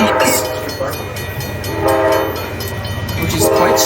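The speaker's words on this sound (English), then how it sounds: "I just saw that train go like whip by me like at 300 miles an hour" A train speeds past a railroad crossing, sounding loud horn blasts over a steady, close rumble of rolling wagons.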